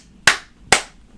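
Three sharp, close hand claps spaced about half a second apart, each a crisp loud smack with a quick decay, with nothing else around them.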